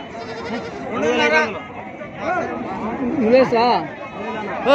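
Goats bleat repeatedly at a busy sheep and goat market in Gudur, with several loud, wavering cries close by over a background of crowd chatter.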